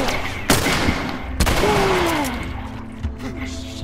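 Gunfire from the video game The Last of Us Remastered, with sharp loud shots at irregular intervals over busy game noise and a voice talking.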